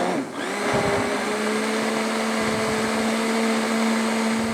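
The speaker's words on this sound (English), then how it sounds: "I blend it a little bit more just to get all those chunks of carrots nicely blended up" A blender whirs steadily as it purees chunky carrot soup, a loud, even motor drone with a constant pitch running the whole time after a brief start-up.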